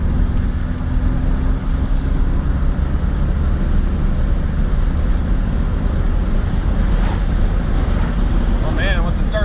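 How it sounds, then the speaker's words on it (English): A 1996 Chevy S10 with a 4.3 V6 and Holley Sniper fuel injection floored in third gear, a loud, steady engine roar with heavy wind buffeting throughout and a rising whine near the end. "Third gear, I'll floor it, see how it does."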